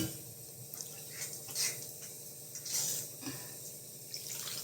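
Water is poured into a simmering tamarind curry of ladies' finger, a faint soft trickle and splash with a few brief louder gushes, close and quiet.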